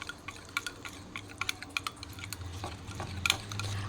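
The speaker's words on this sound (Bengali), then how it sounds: "আবারও আমি এটাকে দিয়ে খুব ভালো করে ফেটিয়ে নেব।" Batter of flour, egg and baking soda is whisked in a bowl, a quiet run of quick tapping clicks and wet stirring strokes, soft and close with no talking.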